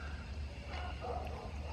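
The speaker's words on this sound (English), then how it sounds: "because all the dogs show up. Yeah, they starting to holler," Dogs bark and yip faintly in the distance outdoors during a solar eclipse, a few scattered barks over a low background rumble.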